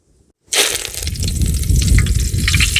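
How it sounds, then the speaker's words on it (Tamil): Loud, steady sizzling of fennel seeds and curry leaves hitting hot oil, beginning abruptly after a brief silence and crackling continuously. "ரெண்டுத்தையும் போட்டு தாளிச்சிடலாங்க."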